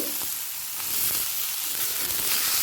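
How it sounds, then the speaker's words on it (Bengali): Green chilies and onion fry in hot oil, giving a close, steady crackling sizzle for a few seconds with no voices. "কাঁচা লঙ্কাটাও তিরিশ সেকেন্ড মতো পেঁয়াজের সাথে ভেজে নিচ্ছি"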